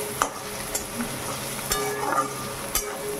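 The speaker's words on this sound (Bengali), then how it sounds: "দেখো বেশ কিছুক্ষণ ধরে নাড়িয়ে চাড়িয়ে এটাকে ভেজে নিচ্ছি।" Onion stirred and fried with salt and turmeric sizzles softly in a pan, with a few sharp scrapes and clinks of a spoon against the metal scattered through.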